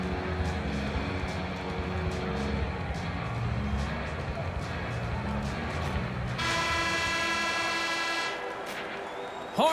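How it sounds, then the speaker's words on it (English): A loud, sustained arena horn sounds to end the second period of an NHL hockey game between Minnesota Wild and Pittsburgh Penguins, blaring for about three seconds over a roaring crowd and arena din. "Horn sounds to end the second period."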